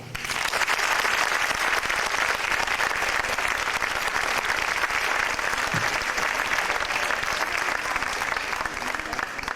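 Dense, loud festival audience applause, sustained and even for nearly ten seconds, with a brief voice showing faintly underneath.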